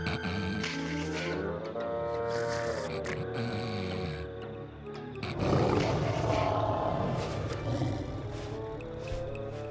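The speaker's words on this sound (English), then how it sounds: "That lion sounds pretty ferocious and pretty close." A cartoon lion roars and growls almost without pause for about ten seconds, close and ferocious, with a harsher, louder surge midway through.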